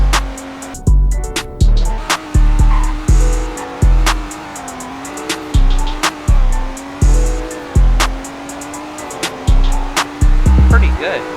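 A virtual car with an 8-speed manual in a Roblox driving game revs loudly and repeatedly, each rising engine sweep cut by a quick gear shift, in a rhythmic series of pulls.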